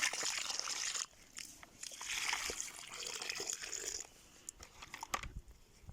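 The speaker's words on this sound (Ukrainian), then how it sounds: "Наливаю водички." Water is poured onto a newly planted kiwi (actinidia) bush in soil outdoors, faint splashing and trickling in uneven bursts with brief pauses, close to the listener.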